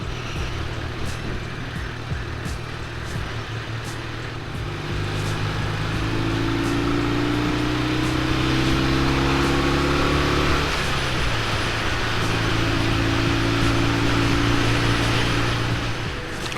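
A 1973 BMW 60/5 airhead twin motorcycle ridden at just under 30 mph in third gear, with a steady low engine drone and wind rumble throughout, the pitch rising gently and dipping briefly mid-ride.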